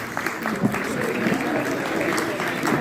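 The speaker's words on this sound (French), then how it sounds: "Merci d'applaudir également Mathias Martial." Graduation ceremony audience claps in a steady, moderately loud patter that holds throughout, with faint voices murmuring underneath.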